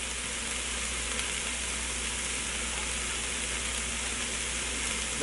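Dirty rice fries in a Ninja Foodi with a steady, even sizzle and soft hiss under a low hum, continuous and close with no talking.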